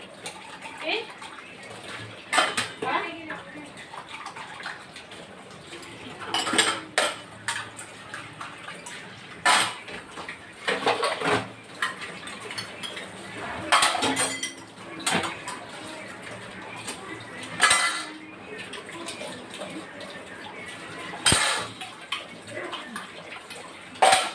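Dishes and cutlery being washed in a home kitchen, with running water and intermittent clinks and clatters of pots and utensils throughout, close and moderately loud, a faint voice heard now and then.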